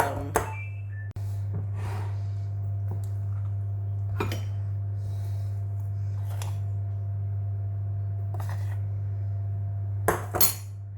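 Flour, baking powder and salt being stirred together in a bowl for chocolate brownies, with a few sharp utensil clinks against the bowl over a steady low hum, no talking.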